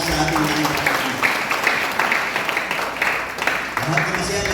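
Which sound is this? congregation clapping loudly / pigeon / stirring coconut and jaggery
congregation clapping loudly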